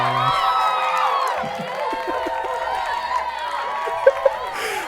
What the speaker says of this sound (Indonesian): Kita sambut Romo Adi Prasojo dengan tepuk tangan yang paling